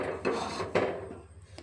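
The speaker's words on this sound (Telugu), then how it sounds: "ముందుగా స్టవ్ ఆన్ చేసి గిన్నె పెట్టేసుకుందాం" Two sharp metallic clanks of a cooking pot set down on a stove, a brief scrape between them and a faint knock at the end, close by.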